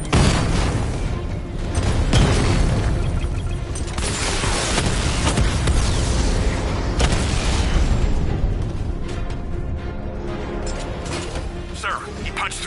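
Tank cannon fire from a 60mm gun against heavily armored units in a Batman video game, a dense run of booming blasts and bursts with mechanical clatter, loud and continuous throughout, with game voices in the mix.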